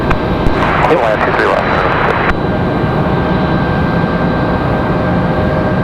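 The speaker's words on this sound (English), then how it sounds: "A321-200 off to Minneapolis." An Airbus A321-200 jet taking off at Raleigh-Durham International Airport, bound for Minneapolis, heard as a loud, steady broadband engine roar with a faint tonal whine and a voice briefly mixed in near the start.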